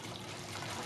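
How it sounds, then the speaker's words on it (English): Water drains between two joined bottles in a tornado vortex, a steady close trickling and pouring rush that stays even and unbroken through the brief moment, with no voices. "not only does the water start coming down rapidly, disperses evenly along the surface walls"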